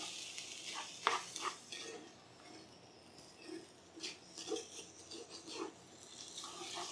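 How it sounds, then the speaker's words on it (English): Sugar being stirred into cactus pear mostarda in a pan, faint scraping and clinking of the utensil against the pan with a soft sizzle underneath, quiet and intermittent, no talking. "now we're going to add our sugar right in. Go ahead and mix this together."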